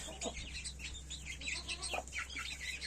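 Broody hens cluck softly and repeatedly close by, with low murmuring calls over a quiet background hum.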